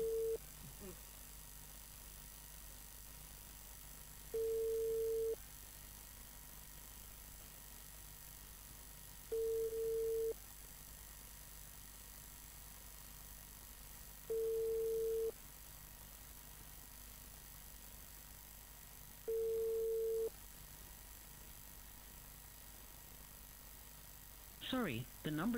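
Telephone ringback tone on a call, about four steady beeping pulses repeating every five seconds or so, moderately loud over a quiet background with a brief rustle at the end.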